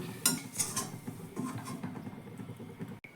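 A spoon clinks and scrapes against a bowl several times as cooked tiffin food is spooned in, soft metallic knocks over a low background hum, then a brief quiet gap near the end.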